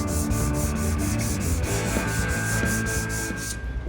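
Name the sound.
hand sanding with a sanding block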